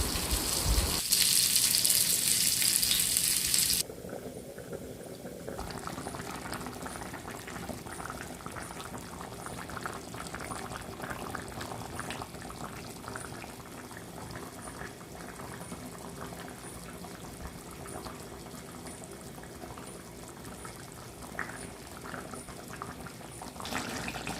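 Chicken curry simmers in a covered pot, bubbling steadily and closely throughout. A louder, brighter burst opens the first few seconds before it settles into an even, continuous boil with no talking.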